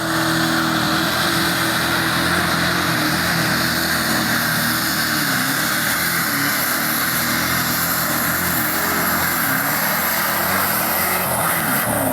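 A loud Oliver tractor engine drones and roars continuously during a tractor pull, a heavy mechanical rumble that stays close and steady with slight surges, no voices.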